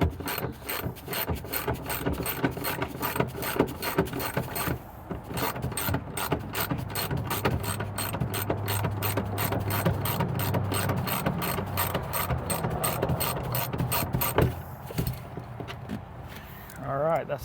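A hand ratchet clicks rapidly and continuously, loosening the seat mounting bolts inside a 1983 Toyota pickup, with brief pauses between bursts and a faint low hum underneath.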